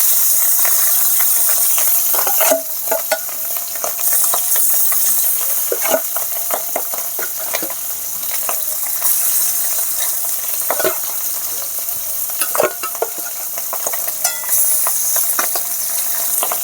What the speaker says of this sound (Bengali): সব মাছগুলো আমি অল্প ভাজা করে নিচ্ছি।